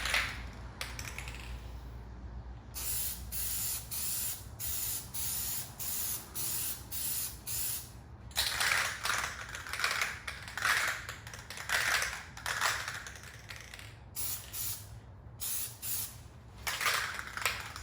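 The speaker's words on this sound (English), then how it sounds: "here is the first coat of Glossifier, and you wanna apply this" Aerosol can spraying a thick first coat of Plasti Dip Glossifier onto car emblems, a series of close, steady hissing bursts separated by brief pauses, with no voices.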